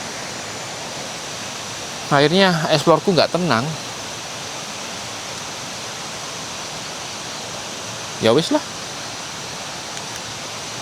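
A river rushes steadily through forest at Lembah Harapan in Mojokerto. Its constant hiss fills the whole clip while a person speaks briefly twice over it.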